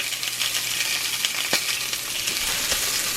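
Sausages browning in a cast iron pan give a steady, close hiss of frying fat, with a single light metallic clink partway through and no talking.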